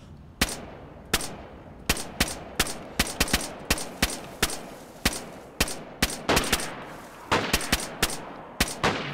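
Gunfire in the zombie survival game DayZ: a rapid string of sharp, loud shots in uneven bursts, roughly twenty cracks over several seconds, with no talking.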